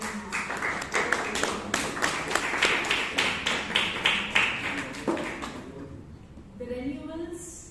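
Applause from an audience at a Toastmasters club meeting in Bangalore: a dense run of claps lasts about five seconds, then thins out and fades.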